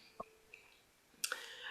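A few faint, scattered computer mouse clicks, one a bit sharper than the others, in a quiet room with no talking.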